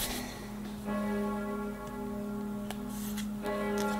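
Church bells ring with a sustained, resonant metallic hum and several fainter repeated strikes layered over it, moderately distant and steady throughout, with no talking.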